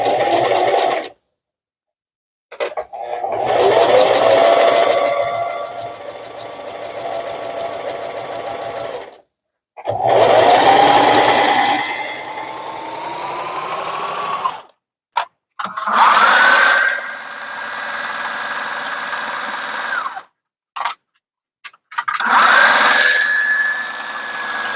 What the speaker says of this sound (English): we are sewing in a circle